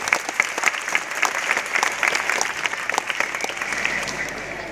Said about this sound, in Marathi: सर्वांना त्यांचं कौतुक जबरदस्त टाळ्या वाजवून करूया आपण एकत्र